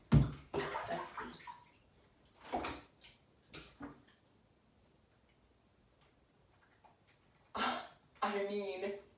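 Bathwater sloshes and splashes in a tub as a cat is bathed and the water level is lowered, in intermittent bursts of movement with quiet pauses and faint breathing between them.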